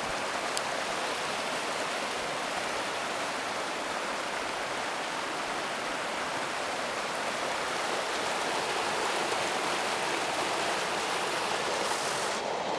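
Spring water flowing steadily outdoors in Antalya, a continuous broad rushing hiss that stays even and fairly loud throughout, with no voices.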